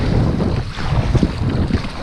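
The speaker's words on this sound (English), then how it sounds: "it's actually quite a bit windier out than I thought it was supposed to be" Steady wind gusting over open water around a kayak out fishing, with a loud, continuous rush of wind noise against the microphone and a low rumble of waves and water that holds for the whole stretch.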